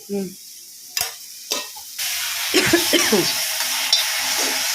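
A few soft clinks and stirs, then a sudden loud sizzle as spices hit hot oil for a Tamil intestine curry, crackling and spitting steadily up close.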